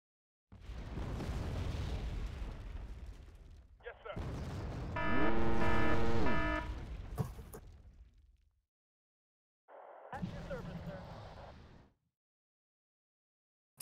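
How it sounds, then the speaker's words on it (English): Enemy return fire in the wargame Wargame: Red Dragon: loud rumbling booming volleys and a sustained roaring burst with a tonal whine, broken by near-silent gaps, then a final shorter burst. "Oh god, he's returning fire!"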